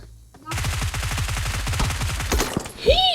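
Rapid automatic gunfire fired from a distance, a steady burst of evenly spaced shots lasting a couple of seconds, followed by a brief pause and a louder sound near the end.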